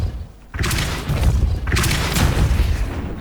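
A Depulso spell blast from Hogwarts Legacy lands as a loud, booming impact, and a second heavy burst follows about a second later, each swelling and rolling off with no talk over them.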